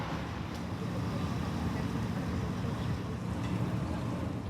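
A steady low engine drone from a ferry in Japan runs throughout, mixed with broad wind noise and faint rushing water, close and constant.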